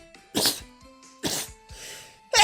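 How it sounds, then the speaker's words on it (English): Three short bursts of a person sneezing or near-sneezing, spaced about a second apart and close to the microphone, over faint steady background music from a Pokémon Moon game session. "I'm gonna sneeze."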